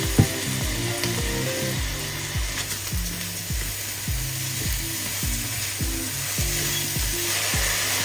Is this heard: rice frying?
yes